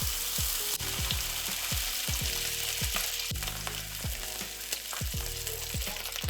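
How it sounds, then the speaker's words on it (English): Meat searing in a hot pan for gourmet instant ramen, a loud continuous sizzle with low thumps and pops scattered through it, close and without talk. "We're going to lay down the bottom of the meat first."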